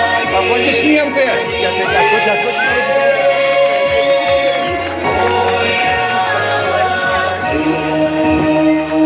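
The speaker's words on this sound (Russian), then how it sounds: "Аплодисменты." Applause and crowd noise from an audience at a Chuvash culture festival, Akatuy 2019 in Moscow, a dense steady roar of clapping with scattered shouts that holds throughout and dips briefly midway.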